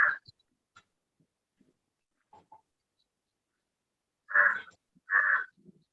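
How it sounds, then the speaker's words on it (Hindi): Two loud, harsh crow caws close by, following a few faint scattered sounds in otherwise quiet surroundings. "कौवा किसका पाला हुआ है भाई?"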